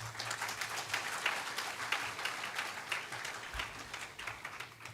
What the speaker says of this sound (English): have a round of applause for all of us